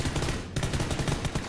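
Rapid gunfire in the video game PUBG, a dense run of loud repeated shots filling the whole moment with a tiny gap, no voices.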